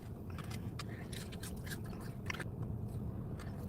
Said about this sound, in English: You hear them pecking at my car?